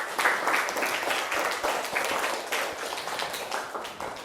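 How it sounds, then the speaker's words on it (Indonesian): A class of children applauds in a schoolroom, a steady, dense patter of many small hands clapping together that stays fairly loud and even throughout, with no talk over it. "Tepuk tangan buat kita semuanya"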